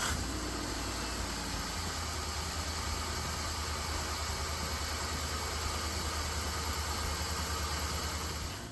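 A 5.3-liter V8 from Silverado, Sierra and SUV trucks runs at a steady idle, a constant dense engine rumble with broad hiss, unbroken and without talk.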